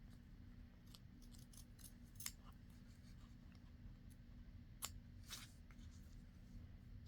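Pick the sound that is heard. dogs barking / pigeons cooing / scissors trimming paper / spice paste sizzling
scissors trimming paper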